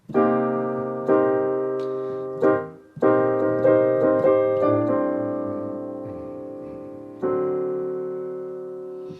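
Solo jazz piano plays a series of rich four-way close block chords, each struck and left to ring and fade, at a moderate, unhurried pace.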